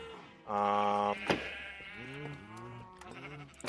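Sheep bleat in the Minecraft video game, a few wavering calls one after another, close and clear, with a brief click between them.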